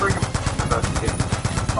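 Rapid automatic fire from a mounted turret machine gun in the Black Ops 2 video game, a steady, loud stream of shots running throughout, with a voice talking over it.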